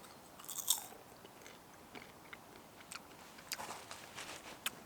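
Crunchy salted popcorn, made in a Trangia Mini camping stove, is chewed up close with sharp irregular crunches over a quiet background.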